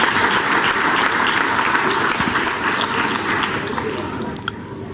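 An audience at a school annual day gives loud, sustained applause, dense clapping that fills the hall and then thins toward the end.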